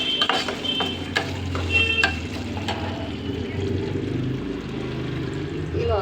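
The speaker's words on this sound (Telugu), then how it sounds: "ఇదిగోండి, శనగపప్పు, మినపప్పు, ఆవాలు వేసుకుంటున్నానండి" Chana dal, urad dal and mustard seeds fry in hot oil as a tempering for tamarind rice (pulihora). A steady, close sizzle carries on throughout, with sharp clicks from the spoon and seeds popping early on.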